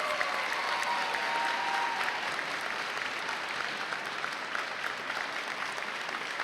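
Crowd at the Hazel Park High School Class Day 2017 ceremony applauds scholarship honorees, a continuous dense wash of clapping that holds steady for the whole stretch.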